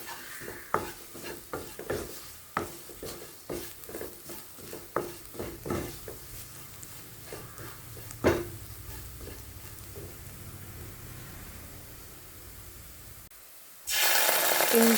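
Chili powder, coriander powder and ginger-garlic paste sizzle in a pan over medium flame, with a steady run of spoon scrapes and stirring taps for most of the stretch, then a sudden louder burst of hissing near the end.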